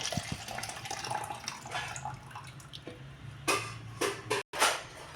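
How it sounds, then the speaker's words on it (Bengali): Water splashes and trickles into a pressure cooker in a home kitchen, faint gurgling at first, then louder pouring bursts toward the end. "কুকারে এবার ঢেলে দেবো এটা আর অতখানি আমি জল দিয়ে দেবো"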